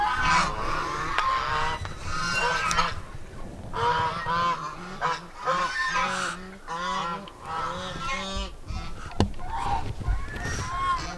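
Geese honk repeatedly at a farm where geese share nesting space with a Muscovy duck; loud, overlapping honks come in bursts, with other fowl calls mixed in.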